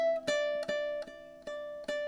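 A ukulele strums its open strings for a song, with five even, ringing strums evenly spaced and each chord sustaining bright and clear until the next.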